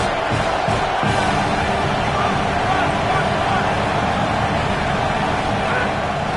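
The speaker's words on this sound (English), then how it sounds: "this crowd is bringing down the house" A packed football stadium crowd roars continuously on a third-down play in a college game, a dense, loud wall of cheering and noise with no break.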